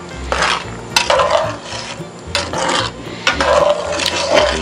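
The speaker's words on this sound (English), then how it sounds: "Stir that in." Spoon stirring black pepper into cream-based catfish and shrimp chowder in a Dutch oven, giving repeated close scraping and rasping strokes against the pot in uneven bursts.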